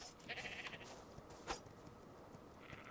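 Ovis sheep bleating in the video game Ark Survival Evolved while being sheared with scissors, a few short, soft bleats with a sharper burst midway, over low game ambience.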